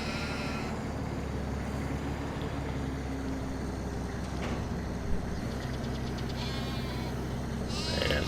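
Sheep bleating in a farming video game set in the Alps, a few drawn-out bleats over a steady low engine-like hum, moderately loud and without talk.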